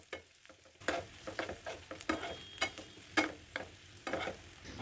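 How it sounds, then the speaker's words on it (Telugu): Onions sautéing in four spoons of oil in a hot pan, a steady sizzle broken by repeated scraping stirs that come in irregular bursts, close and fairly loud, with no voices. "వేడెక్కిన ప్యాన్లో నాలుగు చెంచాల నూనె వేసుకొని ఈ ఉల్లిపాయలను మగ్గబెట్టుకోవాలి"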